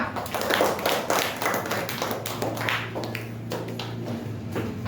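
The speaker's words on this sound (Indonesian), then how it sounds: "Tepuk tangan dulu untuk kelompok 2" A classroom group claps for a student team, with steady, dense hand clapping close by that lasts the whole stretch.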